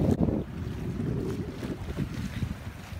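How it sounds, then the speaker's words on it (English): Sailboat under way in freshening wind at six to seven knots, with continuous rushing wind buffeting the microphone over a low rumble of water along the hull. "The wind picked up and we were glad to be moving along at 6 and sometimes 7 knots."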